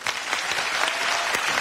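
A studio audience applauds a contestant, a Conservatory-trained competition laureate, with dense, steady clapping that fills the whole moment without voices.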